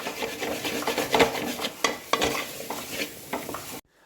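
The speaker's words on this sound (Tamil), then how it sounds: "நல்லா ஹை ஃப்ளேமில் வச்சு ஒரு 2-3 நிமிஷம் நல்லா மிக்ஸ் பண்ணுவோம்." Chana masala stirred on a tawa over high flame, a rough sizzling hiss with repeated scraping and rubbing strokes of a spatula in an uneven rhythm, close and steady, cutting off abruptly at the end with no speech.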